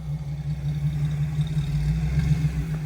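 A 4.3 engine pulling slowly in 4-low, a low, steady, rumbling hum at moderate volume, fairly even with slight pulsing and no talk.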